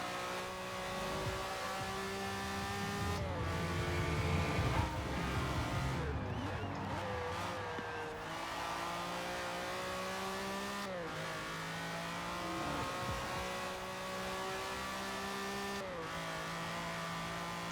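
A rear-wheel-drive Lamborghini Countach in the Forza racing game revs hard through its gears, the engine whine climbing and dropping with each shift and squealing tires in between, steady and close for the whole stretch.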